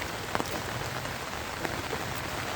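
Heavy rain pours steadily outdoors while someone walks through it, a dense, close hiss of drops striking the ground with a few sharper splatters.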